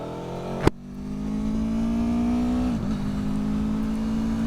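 A motorcycle engine, still warming up from a cold start, pulls away under load with a steady rising drone, a brief sharp transient at the start and a gear change midway, continuous and close with no talking.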